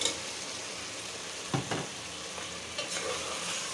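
Meat and potatoes frying and being stirred in spice paste for biryani, a steady close sizzle broken by a few scraping stirs of the spoon.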